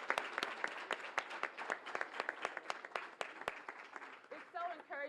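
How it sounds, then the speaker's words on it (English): Audience applause at a celebrity bowling benefit event sounds distant and soft, a sustained patter of clapping that fades out as a voice starts speaking near the end. "Let's give them all one more round of applause"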